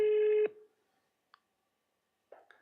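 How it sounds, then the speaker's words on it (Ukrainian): A telephone tone sounds steadily for about half a second and cuts off, followed by quiet and a few faint clicks and short blips as a phone call is placed. "якщо Вікторія візьме слухавку"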